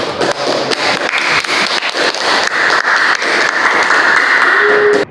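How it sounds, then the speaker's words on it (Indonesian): A classroom of students applauds loudly and steadily at close range, a dense wash of many hands clapping that lasts throughout. "Beri aplaus dulu."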